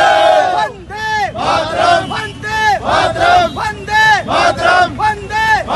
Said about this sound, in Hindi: पाकिस्तान का पुतला जलाया और पाकिस्तान मुर्दाबाद के नारे लगाए